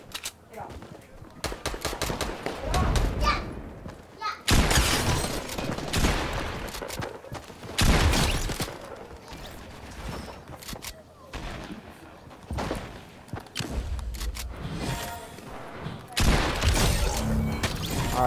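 Rapid bursts of gunfire in the video game Fortnite, played on a phone, come in repeated loud clusters with quieter gaps, while players talk over the shooting.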